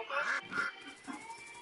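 A duck gives a few nasal quacks, loud and close, two strong calls followed by a softer one, with no other sounds around.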